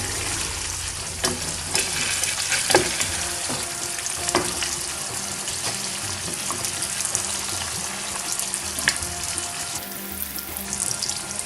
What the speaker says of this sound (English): just let the fish cook for a couple of minutes on each side. We can now gently try to flip the fish on the other side